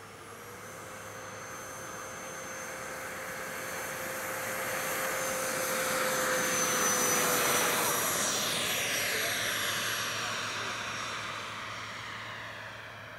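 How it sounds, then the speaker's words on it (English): A Yak airplane taking off on a morning flight: a steady propeller-engine roar with a thin high whine swells to a loud peak midway, then fades as the plane pulls away. "Well, that takeoff was nice, wasn't it?"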